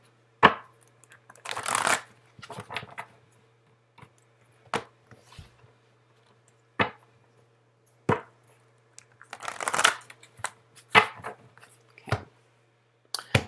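Tarot cards are shuffled in several separate bursts of riffling and soft slaps, close and crisp, with quiet pauses between and a faint hum underneath.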